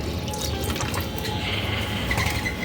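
A little water is poured into a potted plant at home, a soft close trickle and drip running steadily throughout with no voices.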